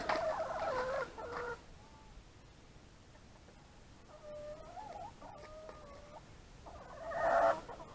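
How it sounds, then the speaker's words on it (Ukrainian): Chickens cluck and squawk nearby in scattered bursts, with quieter murmuring clucks in between and a louder flurry toward the end. "От кури, да, от така птиця"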